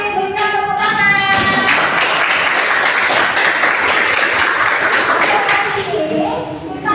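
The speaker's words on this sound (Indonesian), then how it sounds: "Berikan tepuk tangan." A classroom of students claps together in a loud, dense burst of applause lasting several seconds, with voices heard briefly at the start and as the clapping fades.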